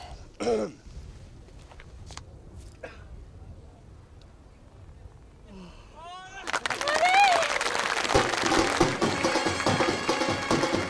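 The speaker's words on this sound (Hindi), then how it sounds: "तालियां सुनी?" Audience applause swells up mid-scene and carries on loud and steady for several seconds, following a quiet stretch with a brief throat-clearing noise.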